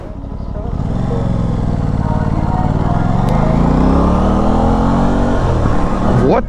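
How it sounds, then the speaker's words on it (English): An Aprilia RS660 motorcycle ridden in New York City, its engine droning loud and close and rising steadily in pitch as it accelerates, with faint wind noise over it. "We're currently out on the Aprilia RS660, just living it up, man."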